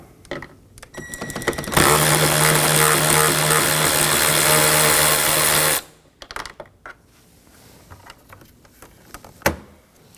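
A power tool spins a 10mm bolt out of a Nissan Maxima front door panel, a loud steady whir lasting about four seconds between quieter clicks and handling knocks.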